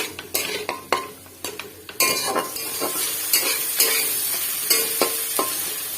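Onions frying in a pan with a light sprinkle of salt, a steady sizzle under repeated sharp scrapes and clinks of a spoon stirring against the metal, louder bursts of sizzle as the onions are moved around.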